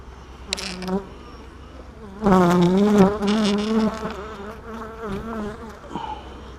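Honey bees buzz close and loud during a beehive inspection, a dense wavering hum that swells midway and stays thick, with no talk over it.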